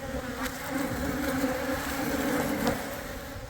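Korean native honeybees swarm around the hive in a dense, continuous buzzing drone that holds steady and fairly loud for the full stretch, with no voices.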